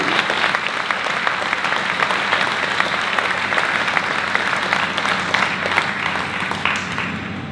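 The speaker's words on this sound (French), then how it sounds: "je voudrais ici qu'on les applaudisse" An audience at a New Year's wishes ceremony applauds the local winegrowers, a dense and steady burst of clapping that holds at an even loudness throughout.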